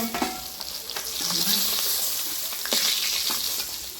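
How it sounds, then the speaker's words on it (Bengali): Fish frying in hot oil in a pan, a bright, loud crackling sizzle with a few clattering stirring knocks, close by and without speech. "এবারে আমি বাকি মাছগুলোকে ভেজে নেব"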